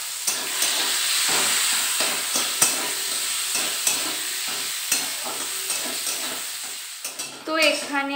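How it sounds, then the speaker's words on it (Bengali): Chopped onions fry in hot oil seasoned with cumin and dried chili, giving a steady close sizzle with repeated clinks and scrapes of stirring, and a louder burst of hissing near the end. "এবার এই কেটে রাখা পেঁয়াজ কুচিগুলোকে দিয়ে দেবো"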